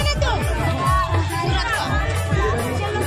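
A packed crowd at the Putto fair (Puto Mela) produces loud, continuous hubbub, with scattered shouts and children's voices rising from the mass of overlapping talk nearby.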